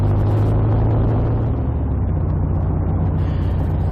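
A car on a road in heavy Sunday-morning traffic heading for the Bescot Sunday market, its engine a steady mid-level drone with road rumble throughout, close and continuous with no talking.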